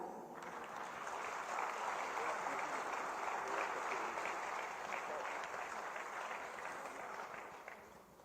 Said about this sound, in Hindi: आपकी लगातार सम्मान भरी तालियों के साथ